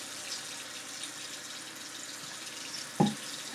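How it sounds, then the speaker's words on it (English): Water runs steadily from a tap while hands are washed at a sink, a continuous soft hiss, with one brief dull knock near the end. "So we're going to wash our hands."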